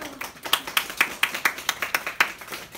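An audience greeting Ded Moroz of Veliky Ustyug at an event in Barnaul claps together in a steady, even rhythm, each crisp clap close and clear, with no talking over it.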